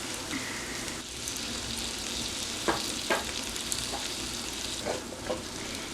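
Seasoned zucchini sautéing in a pan with pasta on the side, a continuous soft sizzle broken by a few sharp clicks and scrapes of a utensil against the pan.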